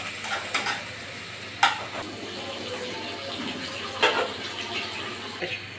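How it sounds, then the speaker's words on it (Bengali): Chopped onions and green chillies fry in a pan with a low, continuous sizzle, broken by a few scraping stirs from a spatula. "এবার পেঁয়াজটা ভালো করে ভেজে নিব"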